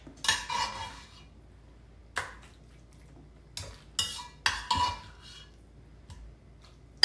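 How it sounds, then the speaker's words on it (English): Fried cabbage spooned into a greased casserole dish: a handful of sharp, close scrapes and clinks of a spoon against the dish, spaced irregularly with quiet gaps between, no talking. "we're just going to take this and we're just going to put it in that greased casserole dish"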